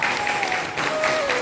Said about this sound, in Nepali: उहाँलाई जोरदार तालीले स्वागत गरिदिनु होला